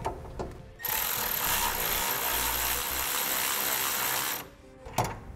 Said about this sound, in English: With the bag nice and secure, we can secure our U-bolts. I'm gonna be using a 9/16 socket.